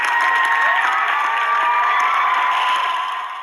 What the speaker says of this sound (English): the crowd got up on their feet